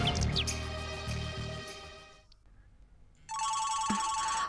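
A phone ringtone in a Tamil detective drama rings loudly and steadily near the end, a bright electronic tone with layered harmonics. Music plays before it, then fades to a quieter pause.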